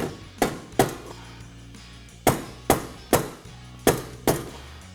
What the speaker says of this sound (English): so a mallet will help